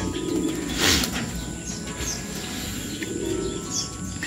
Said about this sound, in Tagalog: Pero yan yung mga ibon natin.